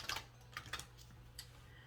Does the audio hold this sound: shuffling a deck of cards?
yes